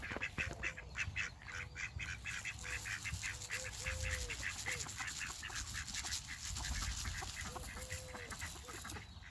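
Ducks and geese in a pen honk and quack repeatedly at close range, the calls overlapping over a rumbling background, with faint voices here and there.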